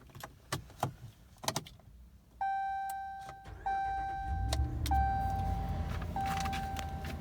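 A 2015 Ram 1500 4x4 with a 5.7L Hemi is started from inside the cab: a few soft clicks and key sounds, then the ignition chime, then the V8 cranks and catches into a low idle rumble.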